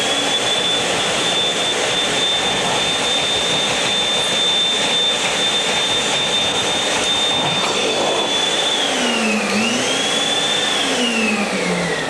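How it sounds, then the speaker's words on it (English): A vacuum cleaner runs over carpet while cleaning up spilled copier toner at a 1991 carpet spotting seminar. Its loud, steady motor whine holds throughout, with the pitch dipping and wavering near the end, and no one speaks. "Let's vacuum this real quickly."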